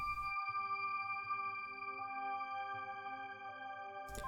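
An arpeggiated sparkle layer from the Synapse Audio Dune 3 synth, with quiet sustained bright tones and stepping notes over a soft low pad for ambient future garage.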